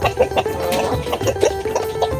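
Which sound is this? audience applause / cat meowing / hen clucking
hen clucking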